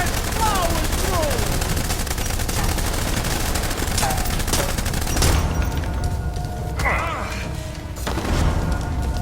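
Steady gunfire rattles through a 1930s gangster shootout in the game Blues and Bullets, dense repeated shots and booms at close range, with voices shouting over the barrage.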